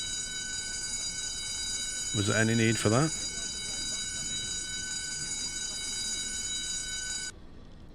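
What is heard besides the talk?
submarine alarm in U-boat video game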